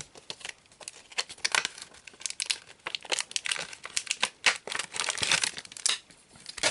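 Plastic foil wrappers of secondhand flea-market Pokémon card booster packs crinkle and tear up close, in dense repeated bursts of crackling with brief pauses and no talking.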